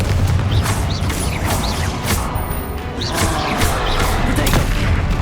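Fire spell explosions from the Hogwarts Legacy video game burst loudly in quick succession, a dense run of booming blasts and crackling impacts that fill the whole stretch without pause.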